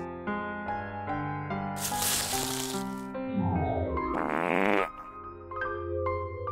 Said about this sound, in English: Farts are life.